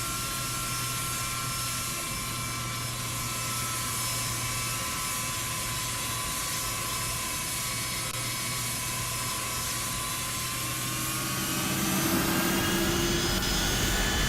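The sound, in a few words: Boeing 757-200 jet engines at runway, X-Plane 12 video game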